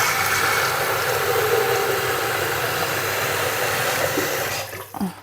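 Boiled water pours into a pot of chicken soup in a steady, loud, rushing stream that runs continuously and then tapers off and stops near the end, with no talking.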